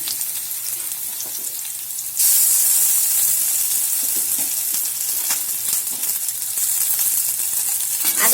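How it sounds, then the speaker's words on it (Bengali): Ginger paste and potatoes frying in a pan, a steady close sizzle that suddenly jumps much louder and brighter as the paste goes in, then holds as a continuous hiss. "আদা বাটাটা দিয়ে আমি ভালো করে ভেজে নেব।"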